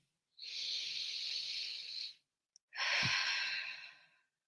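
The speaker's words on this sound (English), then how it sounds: "Take a deep breath." Two long, deep breaths, one in and one out, each about two seconds of close, airy hiss with a short pause between. No speech.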